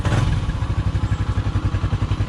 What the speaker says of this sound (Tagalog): umaandar na siya at ito yung andar niya